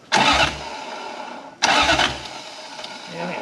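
Turbocharged Toyota 1UZ V8 in a Hilux with a T88 turbo, cranking and catching in two loud starting attempts, each a sharp burst that settles briefly before cutting out, with people talking nearby.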